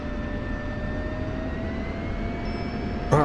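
Jet aircraft taxiing in a flight video game, a steady engine hum with a faint rising whine, loud and continuous throughout, with a brief burst of another sound at the very end.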